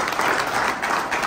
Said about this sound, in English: Let's give these coaches a round of applause.